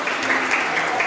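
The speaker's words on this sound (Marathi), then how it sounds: "जोऱ्या टाळ्या वाजून प्रभू येशूला धन्यवाद देऊया" A church congregation claps loudly together in thanks, a dense continuous roar of many hands close by with no pauses.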